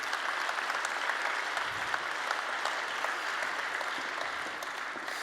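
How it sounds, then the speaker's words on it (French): Sustained audience applause at a church plenary session after worship, dense and steady clapping from a sizable crowd, continuous throughout without voices standing out. "Ouais, on peut les applaudir"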